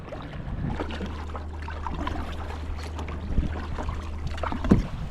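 A kayak paddled on the sea off Malaysia, with soft splashes and water sloshing around the hull under a low steady rumble and light wind, all fairly close and quiet.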